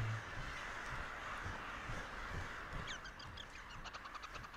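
Crows cawing in the game Tearaway Unfolded, a string of short harsh calls coming in the last couple of seconds over a steady ambient game backdrop.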